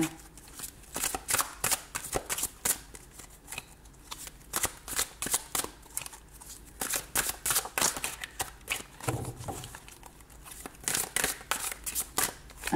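A large deck of very thin, flexible oracle cards is shuffled repeatedly by hand, with rapid riffling and flicking bursts in an uneven rhythm, close and fairly quiet, with no talk.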